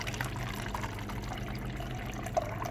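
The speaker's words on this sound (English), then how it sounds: "Nice water flow there" Water runs from the door dispenser of a Whirlpool 24.5 cu. ft. side-by-side refrigerator into a container, a quiet, steady trickling pour that continues evenly from start to finish with no talking.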